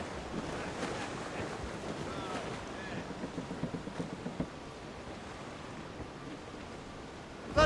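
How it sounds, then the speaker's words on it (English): Wind and waves buffet a sailing ship at sea in Assassin's Creed Rogue, a steady roaring wash of surf and gusts with faint creaks and a few soft rhythmic knocks, close and continuous with muffled voices underneath. "That wind's trouble, Captain Cormac."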